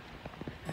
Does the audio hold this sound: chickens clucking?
no